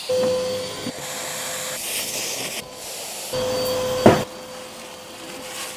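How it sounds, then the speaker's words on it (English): A Henry Hoover vacuum cleaner runs on a building job, sucking up dust: a loud, steady motor whine whose pitched hum drops out and returns, with a sharp clunk near the end and no talking. "Do some Henry Hoovering."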